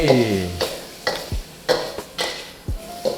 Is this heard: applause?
no